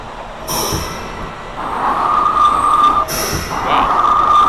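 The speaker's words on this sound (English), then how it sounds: "Wow, that train wouldn't stop." A New York City subway train, an R179 on the A line in the OpenBVE train simulator game, rumbles steadily along the track with a rising wheel screech and bursts of hissing air.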